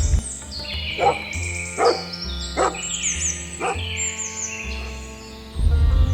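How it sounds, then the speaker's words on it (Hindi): A dog barks four times at an even pace, fairly close, while birds chirp and tweet continuously in the background over a low hum. "ये कुत्ता इतनी तेज क्यों भौंक रहा है?"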